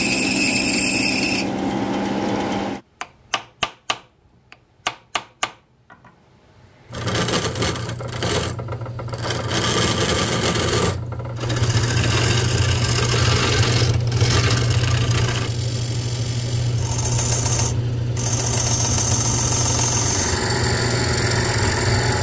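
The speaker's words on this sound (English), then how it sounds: "cut it a little bit smaller on the lathe" Metal lathe turning down a chain tensioner wheel, a steady machine whir and engine-like hum running continuously after a brief pause with a few sharp knocks, loud and close throughout.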